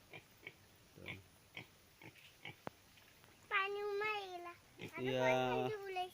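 Soft grunts and snuffles give way to loud, drawn-out pig squeals near at hand, with livestock moving about in the background, on a pig farm in Assam, India.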